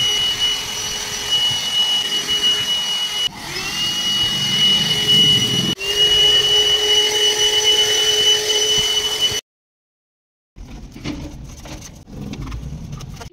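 A vacuum cleaner with a dust-collecting tank runs with a steady, loud whining roar, cuts out abruptly for about a second, then starts up again at a slightly lower level.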